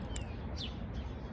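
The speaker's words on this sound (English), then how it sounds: "I got birds chirping in the background" Songbirds chirp outdoors on a sunny, mild February day in New England: a few short, faint tweets over a steady low background hum.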